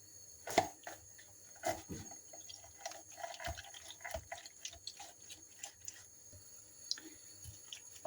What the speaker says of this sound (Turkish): Şöyle yarım limon daha sıkıyorum.